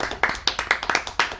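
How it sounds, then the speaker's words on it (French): A small studio audience on a French radio show claps briefly, a quick burst of distinct, close hand claps in an uneven rhythm, with a voice speaking over them. "vous pouvez vous applaudir"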